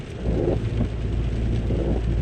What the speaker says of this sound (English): Christmas Eve, pouring rain.